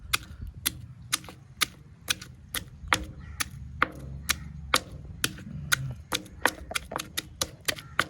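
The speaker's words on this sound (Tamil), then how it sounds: "கிரீன் நண்டு ரசம் நல்லா சாறு இறங்க இடிக்கிறோம்." Crab being pounded for mud crab rasam, a steady series of sharp, close knocks roughly every third of a second, evenly paced with slight variations in force, over a low background rumble.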